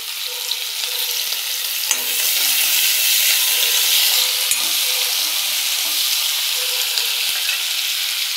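Onions fry in a pan with a constant close sizzle and hiss, broken by a few soft clinks and stirring knocks.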